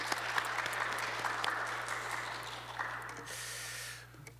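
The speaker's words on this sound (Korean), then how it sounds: "우리 박수로 한번 감사해 드립시다" A church congregation applauds together, a steady wash of clapping at moderate volume with a faint organ tone beneath it, tapering off near the end.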